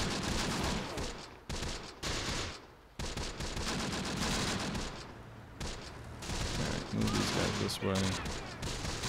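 A .50 cal machine gun firing in Close Combat: The Bloody First, an Omaha Beach D-Day battle, with sustained bursts of rapid gunfire and distant booms, a few short gaps between volleys, and someone speaking over the shooting.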